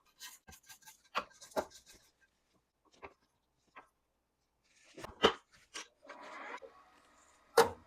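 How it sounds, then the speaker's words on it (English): A spatula scrapes down thick gluten-free double chocolate muffin batter in a mixing bowl, giving short soft scraping strokes in two separated bursts with quiet gaps between. "Going to scrape this down again."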